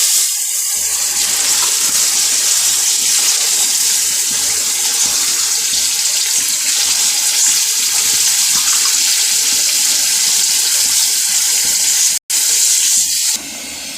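Water poured steadily from a glass into a pot of browned chicken for biryani, a continuous loud splashing gush lasting several seconds with a brief break near the end.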